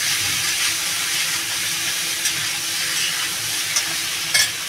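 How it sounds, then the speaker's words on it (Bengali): Elephant foot yam frying together with prawns in a pan makes a continuous close sizzle, with a few brief utensil clicks toward the end. "আমি এই চিংড়ি মাছের ভিতরে এবার ওই ওলটা দিয়ে কষিয়ে নেব।"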